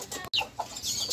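Month-and-a-half-old Sebright bantam chicks in a backyard coop give soft clucks and chirps close by, several small calls spread over a steady rustling background with a brief dropout near the start.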